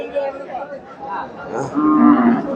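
Cattle moo loudly and close at a busy cow and calf market in Chandaikona, with several drawn-out lowing calls one after another and faint crowd chatter behind them.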